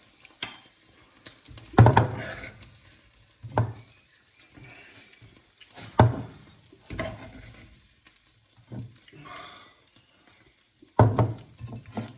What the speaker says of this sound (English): So scrape along the back.